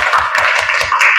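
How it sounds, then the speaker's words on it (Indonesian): A group of children clapping for a boy named Radit in a classroom: a short burst of quick, close applause lasting about a second. "Oke, tepuk tangan untuk Radit"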